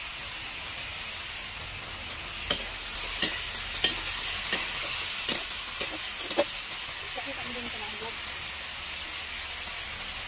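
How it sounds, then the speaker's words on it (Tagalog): Chicken pieces for a simple Filipino adobo fry in oil in a pan, a constant bright sizzle and hiss with scattered scraping clinks as a utensil stirs them, close and alone. "Hinahalukay-halukay para mag golden brown."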